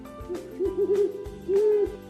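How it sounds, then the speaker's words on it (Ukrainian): An owl hoots in a puppet show story, a few soft wavering hoots in two short bursts over faint background music, alone without talk. "Коли стало вже темніти, прокинулась сова, та як заведе."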